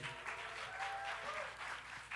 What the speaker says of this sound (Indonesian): tepuk tangan untuk Adrian